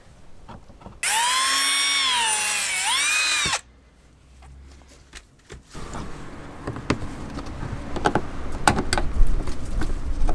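A power drill whines steadily at close range for a couple of seconds while drilling into a Subaru Forester, pitch dipping under load, then stops, followed by clattering handling noises.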